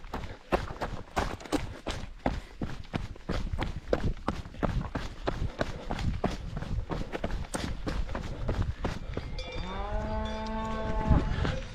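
Cows wearing cowbells at a trail race aid station in the Swiss Alps: a steady jangle of many bells ringing continuously, with hoof thuds and a cow's moo toward the end, close and loud.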